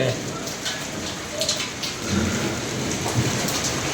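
Heavy rain pours down steadily with a constant hiss, while thunder rumbles low in the background throughout.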